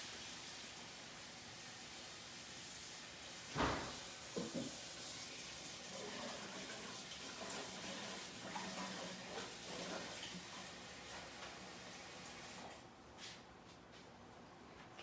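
Tap water poured into a pot holding two pounds of carrots, a steady broadband rush that runs unbroken for the whole stretch, with a few clunks and knocks near the start.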